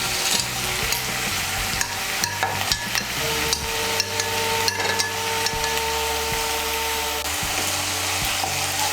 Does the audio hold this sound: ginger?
yes